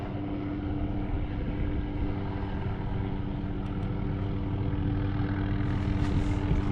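Helicopter flying over open water near Miami, a steady droning engine and rotor hum holding at constant loudness throughout, with no voices.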